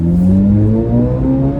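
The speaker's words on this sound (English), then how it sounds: "might have to yell quite a bit over this very, very loud and very close engine here" A 2025 Chevrolet Corvette Z06 engine revs loudly and very close, its deep rising harmonics climbing steadily as the car pulls away on a road test drive, with no talk over it.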